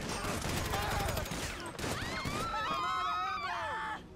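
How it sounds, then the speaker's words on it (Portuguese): Rapid bursts of GTA 5 gunfire crackle continuously, mixed with frantic shouting, screams and whooshing effects throughout. "Da onde tá vindo esse tiro que eu não sei, velho?"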